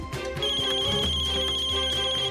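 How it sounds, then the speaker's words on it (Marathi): A telephone ringtone rings loudly and continuously, a steady electronic melody repeating without pause, with no one talking. "नाही, तात्यांचा फोन आहे."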